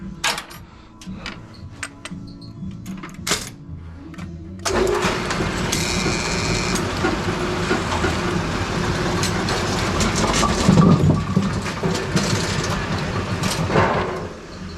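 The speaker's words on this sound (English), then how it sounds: "we're gonna get the deck down to 270 degrees, setting new pins" A Brunswick bowling pinsetter runs steadily as its deck lowers to set new pins, a loud continuous mechanical clatter and rumble that kicks in after a few seconds of quieter clicking and knocking.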